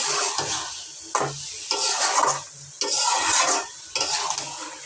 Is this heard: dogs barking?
no